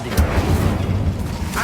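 A fiery Incendio spell cast in Hogwarts Legacy bursts out as a loud, close, booming whoosh with a rumbling low body, lasting about a second and a half with no talk.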